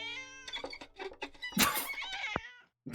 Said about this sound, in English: this is when the cat gets stuck in the violin, right? Yeah. A very important sound effect.